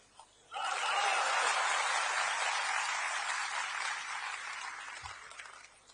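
An audience in a hall breaks into applause, a dense wash of clapping that starts abruptly, holds steady for several seconds and fades slightly at the end.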